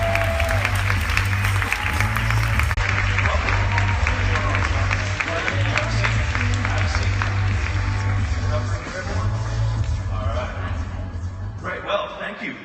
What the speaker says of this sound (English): Please give a big round of applause to Avi, Scott, Kirsten, Mitch, and Kevin, the Pentatonix.